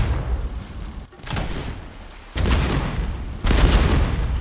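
Heavy booming ship cannon blasts from the video game Age of Water arrive in bursts, a few loud broadband volleys about a second apart, with rumbling low-end thumps between them.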